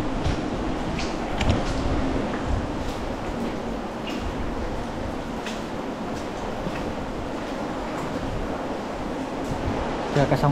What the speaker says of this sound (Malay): Kalau boleh dengar dah bunyi tu. Bunyi air terjun.